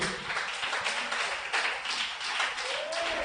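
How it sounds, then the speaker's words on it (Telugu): A church congregation clapping their hands to glorify God, a brief burst of many overlapping claps heard at a moderate distance, without talk. "చప్పట్లు కొట్టి దేవుని మహిమపరచండి"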